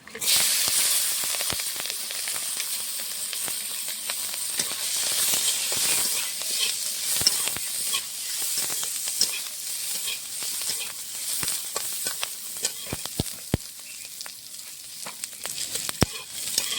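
Green chili and garlic fry in a little oil for a stalk-greens dish, giving a steady close hiss peppered with sharp pops and crackles throughout, with no voices.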